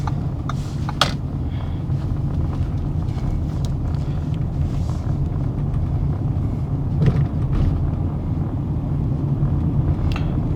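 A car engine rumbles steadily while driving in second gear, with continuous low road and engine noise, faint wind buffeting and a few small clicks inside the cabin.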